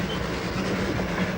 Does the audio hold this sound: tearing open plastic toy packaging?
no